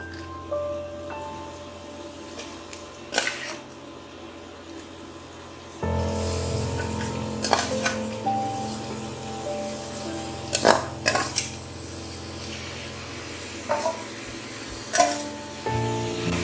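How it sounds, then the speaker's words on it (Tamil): Prawns for prawn biryani are stirred in a cooking pan, with repeated metallic clinks and scrapes of a spoon against the pan over a steady low sizzle, close and moderately loud. "அந்த ப்ரானை நம்ம இப்போ இதில் போட்டு நல்லா கிளறி விட போகிறோம்"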